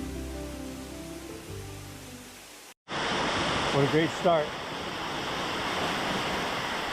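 Rushing creek water in a forest canyon near waterfalls, a loud steady wash of flow close by, with a person speaking briefly beforehand and a short voice partway through.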